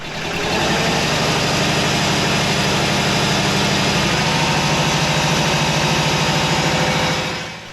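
A heavy Deutz D3005 tractor engine rises to a loud, steady hand throttle while driving a firewood saw in snow, its rhythmic chugging holding for several seconds before easing off at the end.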